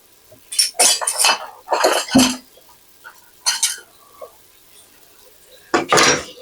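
Utensil scraping and clinking against a cooking pot while food is stirred, in several short bursts of clatter separated by brief quiet gaps, close and fairly loud.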